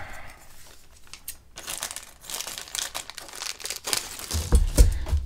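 Scissors cutting material during the build of a model flyer, heard as irregular close-up snips and crinkling rustles with short pauses, growing louder and denser toward the end.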